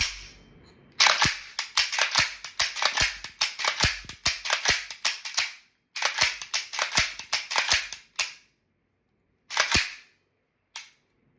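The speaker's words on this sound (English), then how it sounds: "Weapon on fire, pull the trigger, weapon fires." A micro AK47 model gun fires repeatedly in sharp, crisp snaps, first in rapid strings of shots, then after a short pause another fast run, followed by a few isolated single shots with silence between.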